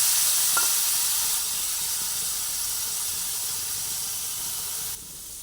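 Meat fries in a pan with a loud, continuous close-up sizzle and hiss, a small clink early on, and a slight drop in level near the end.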